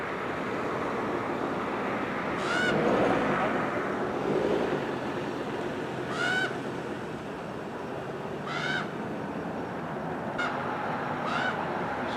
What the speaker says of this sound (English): There's a bird over there making a lot of noise.